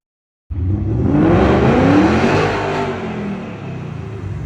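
A Dodge Scat Pack engine roars in suddenly after a brief silence, revving hard and loud with a rising whine, then settling into a steady high drone.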